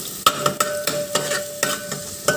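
Garlic and cumin sizzle in a pan for a bitter gourd dish, a steady hiss broken by about eight sharp scrapes of a spoon stirring at an uneven pace.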